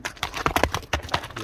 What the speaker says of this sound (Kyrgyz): Жылоолорун дагы көрүңүздөр аттын.